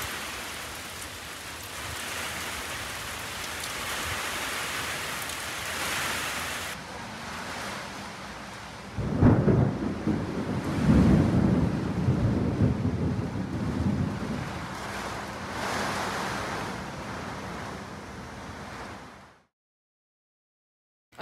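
Steady rain hisses throughout, with a deep rumble of thunder swelling midway before the sound cuts to silence.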